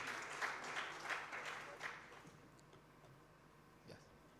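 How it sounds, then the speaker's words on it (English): A small audience at the East Africa Capital Markets Conference gives the director a brief round of applause. The faint, scattered claps fade after about two seconds, leaving a quiet room with a few stray taps. "let's clap for the director"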